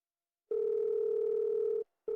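A steady electronic telephone tone sounds for over a second after silence, then starts again briefly, clean and close with no voices.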